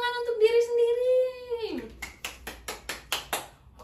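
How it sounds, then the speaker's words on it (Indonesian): Schoolchildren in an elementary classroom clap for themselves; a child's drawn-out voice opens, then a run of evenly spaced claps follows, close and fairly loud. "Tepuk tangan untuk diri sendiri."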